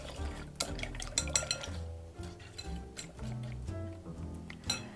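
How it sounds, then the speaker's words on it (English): Eggs are beaten with a whisk in a bowl, giving quick irregular clinking and tapping strokes against the sides, close and fairly quiet. "but I'm going to use a whisk."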